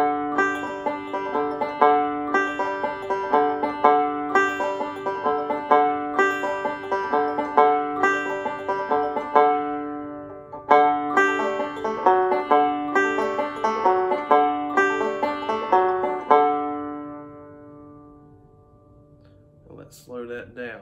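Banjo filler roll played alone without the chord, a steady run of bright plucked notes in a quick even rhythm, close and clear, fading out near the end with a couple of soft extra plucks.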